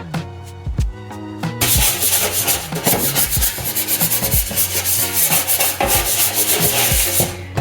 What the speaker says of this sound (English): I literally just brush it until it's soapy, rinse, then I go over again with the sponge.